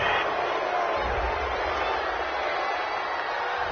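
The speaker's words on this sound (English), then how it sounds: "This home crowd, they're happy with that call" A home crowd in a football video game cheers after a flag is thrown on a fourth-down play, a steady broad roar that holds evenly throughout the clip with no talk over it.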